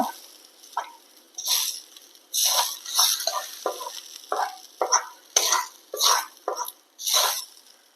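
Fried onion is poured into a duck egg curry and stirred, producing a series of sharp, close sizzling bursts and wet stirring scrapes in an irregular rhythm.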